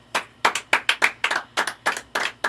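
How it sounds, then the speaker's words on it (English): An audience at a poetry event claps in a sparse, uneven rhythm, roughly a dozen distinct sharp hand claps spread evenly and fairly close. "please give a round of applause"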